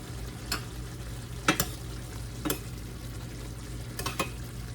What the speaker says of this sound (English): I'm gonna let it kind of boil a little more on a higher temperature